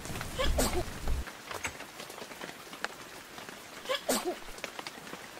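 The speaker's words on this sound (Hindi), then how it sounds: "क्या ये बारिश कभी बंद नहीं होगी?" Rain falling steadily in a children's cartoon, a soft continuous patter with brief louder splashy bursts near the start and again toward the end.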